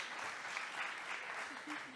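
Audience at a business conference applauding the speakers, a dense, even wash of clapping from a room full of people, steady for the full two seconds with a faint voice beneath.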